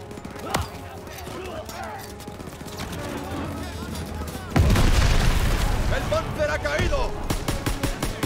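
Loud explosion bursts in a Call of Duty: WWII battle, a thrown grenade going off amid steady gunfire, followed by rapid cracking shots and battle noise, with shouted voices in the mix.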